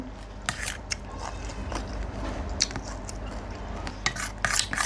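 Crunchy bites and wet chewing on a Lao-style pounded green banana salad, close to the mic, with irregular sharp crackles over a soft, steady mouth-noise bed and no talking.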